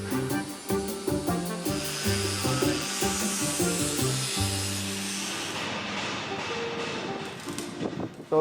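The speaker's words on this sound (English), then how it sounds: "Any slag or spatter from the weld area is removed and polished by the workers." Workers grind and polish weld spatter and slag off stamped steel parts for reproduction WW2 Willys jeeps, a steady rasping, hissing abrasion with faint metallic tones, moderately close and continuous with no talking.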